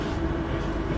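IR 346 train descending the Predeal Pass, heard from inside the dining car as a steady, loud low rumble and rolling drone with a constant hum, no voices.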